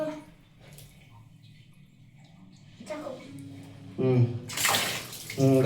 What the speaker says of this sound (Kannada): ನೀರು ಬರುತ್ತೆ ಜೋರಾಗಿ